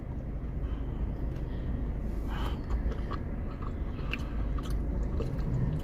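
Someone chews a salted caramel treat up close, with soft, steady mouth and munching noises over a low background rumble and no speech.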